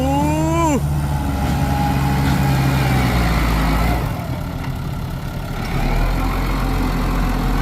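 A Kubota TS115 tractor engine comes closer, a heavy low diesel drone that holds steady and loud, with a brief rising whine at the start and a short dip midway.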